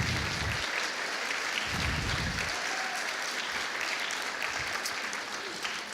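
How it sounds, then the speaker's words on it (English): Audience applause from a seated crowd, a dense sustained clapping wash filling the room, loud and steady throughout with brief bursts of cheering. "let's give these people a round of applause"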